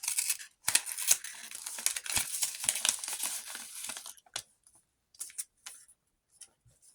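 A paper surprise packet is torn and unfolded by hand, with bursts of crinkling and rustling paper followed by a few short, quieter rustles and pauses.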